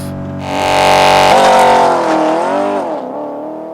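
Porsche Panamera GTS surging off a launch-control start, engine note swelling loud and close, then a quick shift and fading pitch as it pulls away; no speech.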